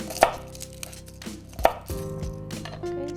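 A knife slices through garlic on a cutting board, with two sharp close chops followed by softer cutting knocks, over a low continuous background hum, with no speech.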